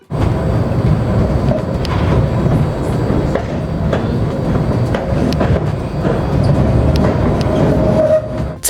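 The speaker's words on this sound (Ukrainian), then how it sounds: "Ще один оновлений трамвай після капітального ремонту знову виходить на лінію" A renovated tram in Kryvyi Rih, back on the line after a major overhaul, rolls by with a loud, steady rail rumble and faint clicking wheel beats throughout, with no voices.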